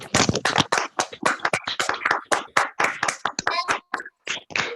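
Sparse, close clapping from a small group after a presentation, each clap sharp and distinct in an uneven patter with short gaps, as if only a few people are applauding.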